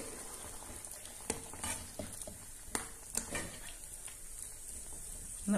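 Chicken and vegetable kurma with coconut milk simmers softly in a pot while a spoon stirs it, giving a gentle bubbling sizzle broken by a few light scraping clinks.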